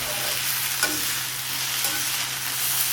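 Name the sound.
sautéing ridge gourd chutney ingredients with coriander, mint, curry leaves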